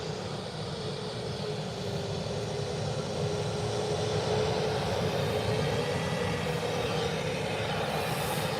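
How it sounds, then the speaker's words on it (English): A Jet2 Airbus A321 lands in fog, its engines giving a steady, loud broadband roar with a faint whine that holds level and swells slightly near the end. "The Jet2 A321."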